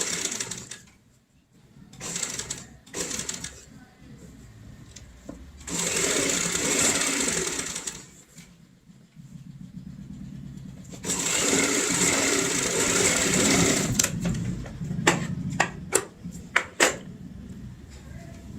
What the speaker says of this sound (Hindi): इस बार हम किनारे की सिलाई लगाएंगे।